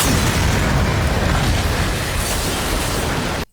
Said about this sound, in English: there are a lot of explosions in these movies